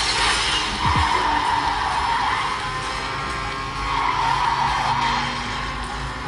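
A car drifts in a racing video game played on a OnePlus Nord phone. Tyres squeal loudly and continuously, rising and falling in waves over a low engine rumble, with no talking.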